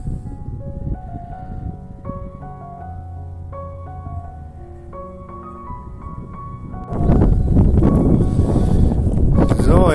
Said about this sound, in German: Kalter Wind hier.